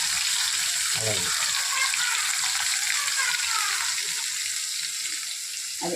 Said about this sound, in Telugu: అది వేగుతూ ఉంటుంది.